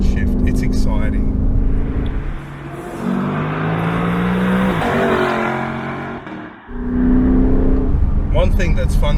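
A 2020 Lexus LC500 V8 on California roads revs up through rising gears, then drops into a crisp blipping downshift with a brief dip before the engine surges again, loud and close inside the cabin as a voice talks over it.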